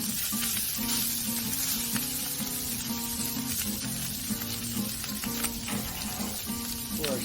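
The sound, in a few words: beef sandwich buns heating and sizzling on Pit Boss grill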